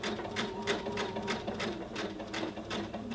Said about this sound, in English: There's no need to ease, so we can just sew straight forward.